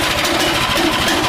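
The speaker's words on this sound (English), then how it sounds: "So I'm gonna just run the engine and show how it works" A DIY hot rod kart's engine runs with one wheel lifted off the ground, a steady close mechanical drone with a rough low rumble that holds even throughout the short stretch.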